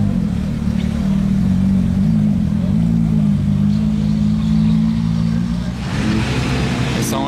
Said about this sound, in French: Et ça enchaîne sur une 812 GTS qui fait du bruit celle-ci.